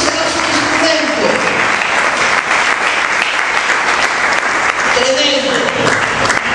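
Sustained applause from a church congregation during a sermon, dense and steady throughout, with a preacher's voice rising over it near the start and end.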